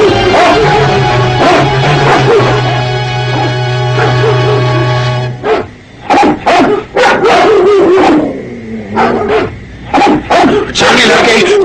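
Cartoon dogs from a Hindi Jungle Book animated episode bark and yelp in loud, repeated bursts across the second half, after a sustained musical tone, with voices shouting over them.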